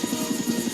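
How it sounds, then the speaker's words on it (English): A helicopter touches down in snow, its rotor a steady rhythmic thudding throb with a buzzing hum, close and continuous. "Harold the helicopter touched down gently in the snow."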